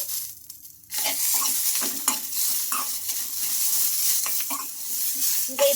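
Peanuts, cumin and mint leaves frying in a pan and being stirred, a loud continuous sizzle that starts abruptly and carries on with irregular scraping and stirring noises, nearby and without talk.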